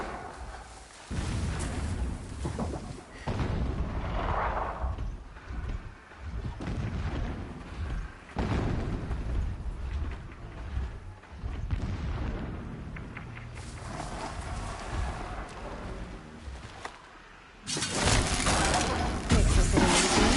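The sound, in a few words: distant explosions in the video game Horizon Zero Dawn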